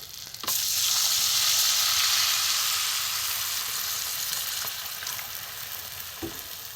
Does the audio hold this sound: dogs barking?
no